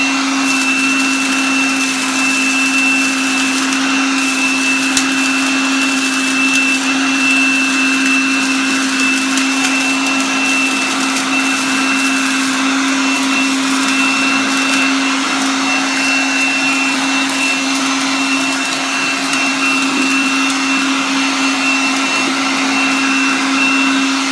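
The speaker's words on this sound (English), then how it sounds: "I'm going to use my Kimo shop vac, the new one that I just got, and in shop vac mode." A Kimo 20-volt cordless shop vac in vacuum mode runs with a loud, steady motor whine and airy rush, unbroken and close for the whole stretch.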